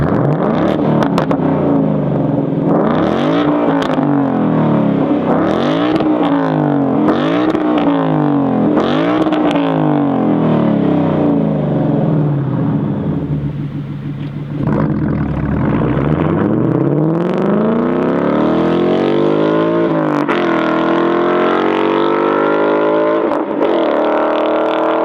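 A 2018-or-later Ford Mustang GT with a stainless steel catback exhaust revs loud and close, its engine rising and falling in repeated sweeps with a brief dip in the middle.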